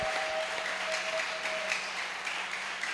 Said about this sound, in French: Acclame-les très fort.